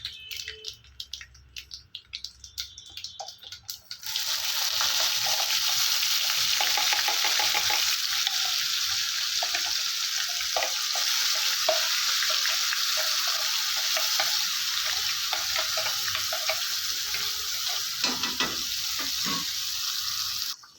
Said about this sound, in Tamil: இப்போ ஸ்டவ்வை சிம்மில் வச்சுட்டு நம்ம இந்த சட்னி அரைச்ச சட்னி சேர்த்துக்கலாம்